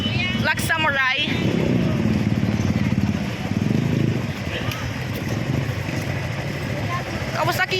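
A Kawasaki Barako motorcycle engine rumbles nearby in a steady low drone, with short shrill bursts at the start and end, while a crowd murmurs and voices talk over it throughout.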